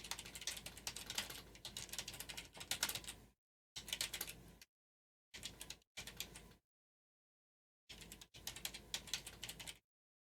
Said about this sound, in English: My keyboard is acting annoying too.